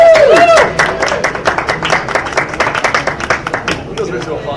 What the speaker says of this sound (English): It feels good to applaud ourselves